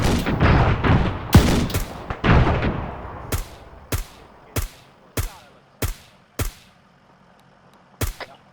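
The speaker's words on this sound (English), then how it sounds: "Whoever's shooting that Mark 19, are they aware that we got down pilots at the crash" Heavy gunfire from an Arma 3 military game firefight, a dense burst of shots at the start followed by single booming Mark 19 grenade launcher rounds at roughly half-second to one-second intervals, loud and close with decaying echoes.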